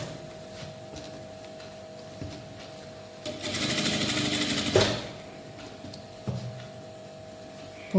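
Sewing machine stitching thread piping along fabric with a single foot, a faint low hum that swells into a loud, fast rattling burst of stitching for about a second and a half, then drops back to quiet room tone.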